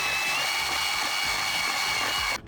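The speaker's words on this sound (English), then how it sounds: "I do recommend if you have a drill brush with an extender, go ahead and do this real quick" A power drill fitted with a drill brush whirs steadily at high pitch for a couple of seconds, close and loud, scrubbing a car interior, then cuts off abruptly near the end.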